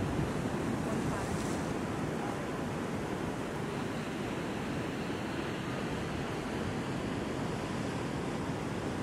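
Wind and ocean surf roar steadily near the cargo ship Pacific Action entering the Port of Newcastle, Australia, a dense continuous wash of water and wind buffeting against the microphone.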